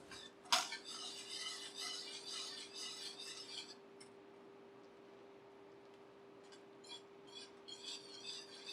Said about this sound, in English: Now we're going to start whisking in some cold butter